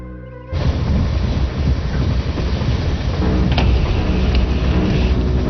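A train rolling along railway tracks, a steady loud rumble with rattling wagons that starts abruptly and continues throughout, with brief metallic squeals midway.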